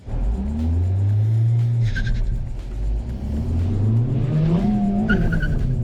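A Honda Civic Type R launches hard, its engine roaring loud and steady with rising revs while the tires spin and squeal briefly, a continuous close-up burst of power lasting several seconds without talk.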